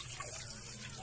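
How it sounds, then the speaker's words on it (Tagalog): Three pieces of boneless bangus (milkfish) rinsed under running tap water in a kitchen sink, a steady close splashing and trickling flow with no talk. "Hugasan na natin ang ating 3 pirasong bangus."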